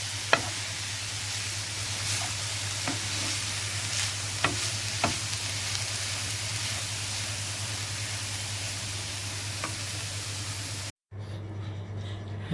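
Vegetables for an Egyptian omelette are stirred in a pan, a steady soft sizzle running throughout with a few light scrapes and clicks, cutting out briefly near the end.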